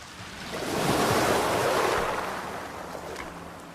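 Coastal waves wash ashore in one swelling rush that builds and fades over a few seconds, with wind buffeting the microphone and no voices.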